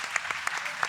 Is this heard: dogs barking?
no